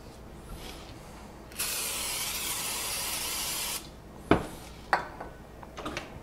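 Protein pancake batter hits a hot skillet over medium heat with a loud, steady sizzle lasting about two seconds, followed by a few sharp clinks of a pan and utensil.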